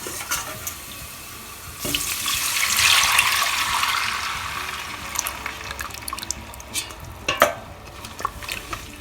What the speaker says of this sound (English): Just keep stirring continuously.